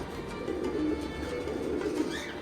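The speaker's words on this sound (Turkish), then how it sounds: "Kuş da bana öyle alıştı ki bakın kur yapıyor bana." A pet bird, most likely a pigeon or dove, coos in low, soft repeated calls while courting, heard close by over a noisy background.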